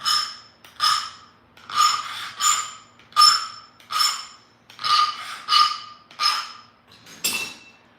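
Close abrasive rasping strokes on a knapped stone point, about ten short scraping passes in a steady rhythm with brief pauses between them, heard on their own without talk.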